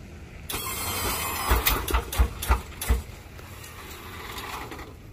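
Lowrider hydraulics lift a car up onto three wheels as the switch is held, giving a loud mechanical whine and pump hum with a rapid series of clunks and thumps, then a steadier drone.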